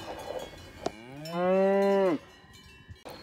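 Cows moo in a pasture, one long, loud, drawn-out bellow rising in pitch and holding steady before cutting off, with brief knocks and quiet outdoor background before and after.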